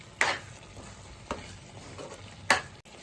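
A spoon stirs a prawn and chana dal curry in a pan, giving three distinct scraping clinks spaced about a second apart over a soft background simmer, close and unaccompanied by speech.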